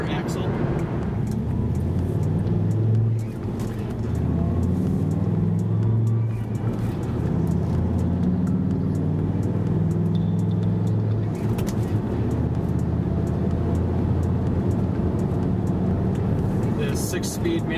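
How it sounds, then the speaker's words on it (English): Dodge Ram SRT-10 pickup with a Viper V10 engine and 6-speed manual, cruising at highway speed, heard from inside the quiet cabin as a steady low engine and road drone with someone talking over it throughout. "Right now I'm going about 70 miles an hour on the highway, and it's riding really smooth, and the cabin's really quiet."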